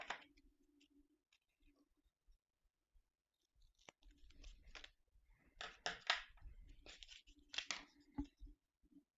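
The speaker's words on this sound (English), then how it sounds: "before I start cutting along the markings" Scissors cutting paper along marked lines for Christmas paper crafts, heard as faint, close, irregular snips and crisp paper rustles, sparse at first and then busier, with no talk.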